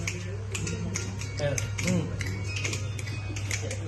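Finger snaps keep a steady beat along with a Punjabi song, crisp repeated clicks spread evenly across the clip over a constant low hum while voices sing or talk underneath.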